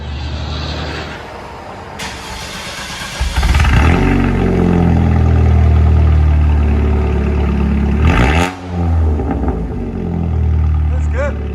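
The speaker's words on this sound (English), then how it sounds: "So we did a muffler delete on this. We'll let you guys hear it." A 2002 Chevy S10 with a 4-cylinder engine and straight-pipe exhaust after a muffler delete idles, then revs up loud and raspy, drops briefly and revs again, close by.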